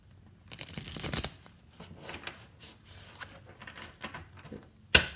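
Tarot cards are shuffled repeatedly up close, a series of soft riffles and flutters ending in a sharp snap as the deck is squared.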